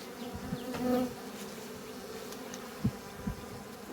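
Honey bees buzzing close by in a steady drone, with a few louder passes and soft thumps; no one speaks.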